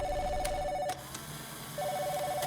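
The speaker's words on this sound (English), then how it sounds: "And there's a phone call this time." Phone ringing in a Five Nights at Freddy's fan horror game: two electronic ring bursts separated by a short pause, clear and fairly loud over a faint eerie ambience.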